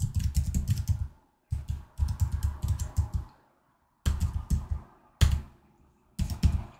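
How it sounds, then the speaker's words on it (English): Bursts of rapid typing on a computer keyboard, close and crisp, in several short runs separated by brief pauses, with no talk. "And I'll start to type the days of the week."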